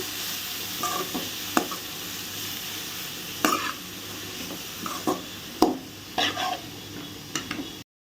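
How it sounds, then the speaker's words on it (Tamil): Shredded cabbage sizzles steadily as it fries in oil for a Tamil cabbage poriyal, with a spoon scraping and stirring through it in irregular strokes, close and alone. "இது எல்லாத்தையுமே நல்லா மிக்ஸ் பண்ணி விட்ருவோம் இந்த எண்ணெயில் வந்து வர்ற மாதிரி முட்டைக்கோஸ் வந்து நல்லா வதங்கணும்"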